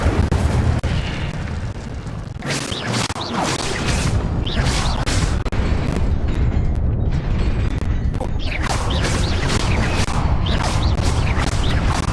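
The Incendio fire spell is cast in the game Hogwarts Legacy, giving a burst of fiery whooshes and crackling blasts that flare repeatedly over a rumbling background.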